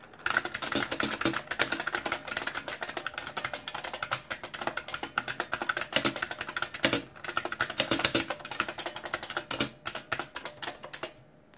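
Rapid continuous typing on a new Model F 62-key keyboard with springs inside the key barrels, recorded close up as a dense, clacky stream of keystrokes with brief pauses and no voices.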